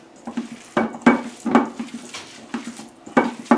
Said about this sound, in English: Nothing better than just mixing like this.